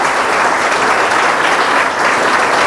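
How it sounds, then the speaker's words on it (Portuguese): Steady, loud applause from a church congregation during a Nova Vida worship service in Ourinhos, a dense clapping wash that holds evenly for the whole stretch with no voices above it. "aplauda o Senhor, agradeça a Ele"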